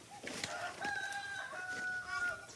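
Chickens on a Filipino farm clucking and crowing close by, a short burst of layered rooster-like calls over soft background noise.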